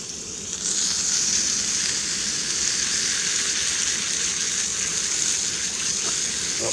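A big thick steak frying in plenty of butter in a pan outdoors at a wild campsite, a loud steady sizzle with bright spitting hiss that holds evenly throughout, close to the pan.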